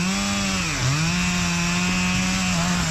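A chainsaw cuts through the hinge of a hung-up tree, a loud close engine drone held at high revs under load, with a brief dip in pitch before it steadies again.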